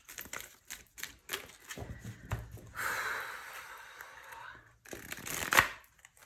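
Playing cards are shuffled in quick riffling bursts and taps, a rapid flutter of card edges, with brief pauses between attempts.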